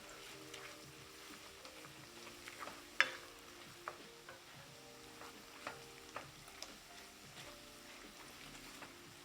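Pork belly and green onion stir-fried in chunjang sizzle faintly in a pan, with soft scattered clicks and scrapes of stirring over a low steady fry.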